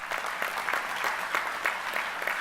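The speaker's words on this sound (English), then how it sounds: "Give yourselves a round of applause." Steady applause fills a labor union convention hall, a dense wash of many hands clapping with scattered louder claps and no voices on top.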